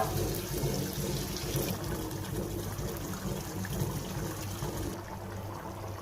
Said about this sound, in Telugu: ఇందులో నేను కొద్దిగా వాటర్ కూడా పోసుకుంటున్నాను.